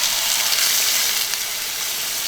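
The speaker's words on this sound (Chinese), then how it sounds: "带鱼煎好后加水" Water poured into a pan of fried hairtail fish sets off a loud, steady sizzle and hiss that fills the whole moment without a break.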